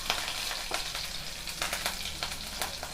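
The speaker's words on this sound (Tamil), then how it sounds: "பாருங்க, கடுகு பொரிஞ்சிச்சு." Mustard seeds, cumin, curry leaves and green chillies fry in hot oil, a close, steady sizzle broken by sharp popping crackles as the seeds burst, with no talking.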